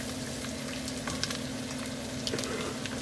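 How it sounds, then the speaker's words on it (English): Mushrooms sizzle and crackle steadily in a hot pan, a close, even frying hiss with small pops and a faint stir, no one talking. "the mushrooms go in next. And you want to let those cook for"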